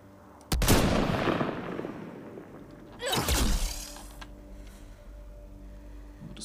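Gunfire in the sci-fi video game Mass Effect Andromeda: two loud, sharp long-range shots a few seconds apart, each with a long booming decay, heard with no talking.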